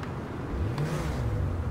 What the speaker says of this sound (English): We're gonna hear this engine now it's fully upgraded.